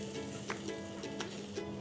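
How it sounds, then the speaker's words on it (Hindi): Steady close sizzling and crackling of spices frying with tomato in a hot pan, with a few soft scraping stirs. "मसालों को हम थोड़ी देर तक भूनेंगे।"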